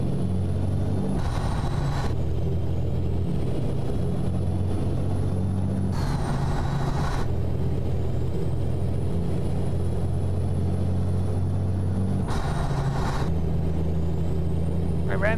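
Kenworth K100E truck engine in American Truck Simulator pulling a moving van, a loud steady diesel drone broken by brief pauses at regular intervals like gear changes, close and continuous.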